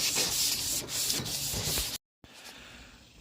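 Sandpaper rubbed back and forth over a car hood, a close, rough, continuous scratching with uneven strokes, briefly cut by a moment of silence before quieter rubbing resumes.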